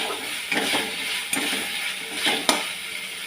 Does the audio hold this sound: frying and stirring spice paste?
yes